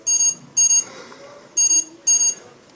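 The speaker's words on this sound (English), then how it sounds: "When a hazard is detected, it will make this sound and flash." Hazard warning alert from an OOONO Co-Driver NO2 speed camera and hazard warner: four bright, loud bursts of rapid electronic beeping in two pairs, with quiet gaps between.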